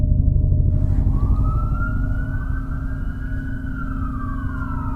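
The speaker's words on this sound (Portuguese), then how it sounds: "as sirenes podiam ser ouvidas." A police car siren wails in, rising and slowly falling in pitch over a heavy low engine rumble, loud and close, with no talking.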